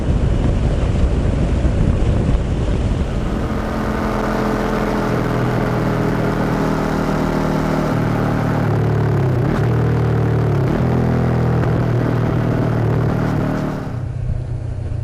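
Honda CB500X motorcycle accelerating in sixth gear uphill on a highway into a headwind: loud, steady engine drone buried in heavy wind rush, the engine tone rising and wavering as it pulls.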